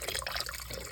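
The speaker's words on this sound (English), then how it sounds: "I'm gonna add some water in" Water pouring into a pan over a roast in a home kitchen, a short splashing, bubbling burst at a close, steady level.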